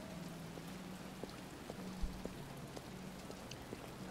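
Steady rain falls in a video game set in rainy Detroit, a soft, even patter with scattered faint drop ticks and no voices.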